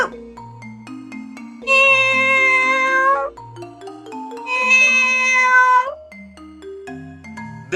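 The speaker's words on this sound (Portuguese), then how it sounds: "Já o miado é um som mais longo." A cat meows in two long, loud, drawn-out calls, separated by quieter tonal sounds in between.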